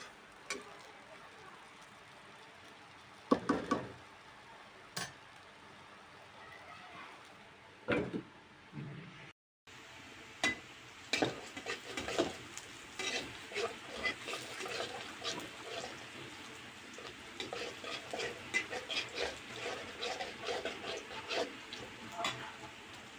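Onion, chili, garlic and greens frying in a pan, a steady soft sizzle broken by sharp clinks and scrapes of stirring, with a brief silent gap midway.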